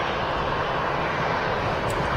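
Steady broadband roar of an EasyJet airliner at Manchester Airport, a continuous even engine rush held at constant loudness throughout with no voices.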